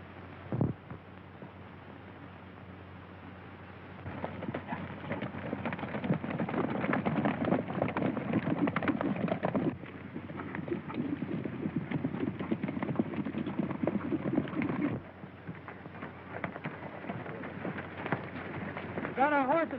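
Horses' hooves clip-clopping on open ground at a western camp, a dense run of quick irregular hoofbeats at middle distance that carries on for some time, with a voice speaking over part of it.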